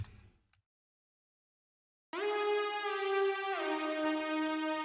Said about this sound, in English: and also this gliding synth.